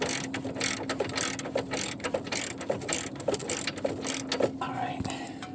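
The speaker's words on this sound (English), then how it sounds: "holding one with the other, turning the ratchet" A socket ratchet turns against a held wrench on the axle nut of a 2002 BMW X5 with the 3.0-litre six, producing rapid repeated clicking bursts close by over a low background hum.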